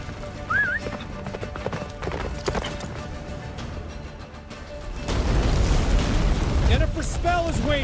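Hooves of the horse Roach clop at a gallop through the Witcher 3 game world, a steady rhythm under game music and effects that swell louder midway, with a voice speaking over parts.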